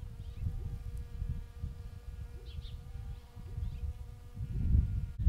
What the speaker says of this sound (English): there's honeybees everywhere and we want to encourage them to hang out by our garden